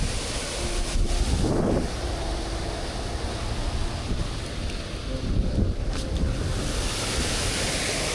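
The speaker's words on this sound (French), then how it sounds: "il y a encore de la cascade là-haut." A continuous broad rushing of a waterfall near Cairns, Australia fills the scene, steady and fairly close, with occasional gusts of wind over it.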